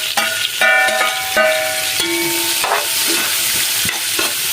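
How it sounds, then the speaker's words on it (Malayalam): Chopped onions sauté in oil left over from frying chicken for a biryani, giving a steady, loud sizzle with stirring scrapes and tonal background sounds throughout. "ചിക്കൻ വറുത്തെടുത്ത ആ എണ്ണയിലായിട്ടാണ് നമ്മളിപ്പോൾ ഉള്ളി വഴറ്റുന്നത്"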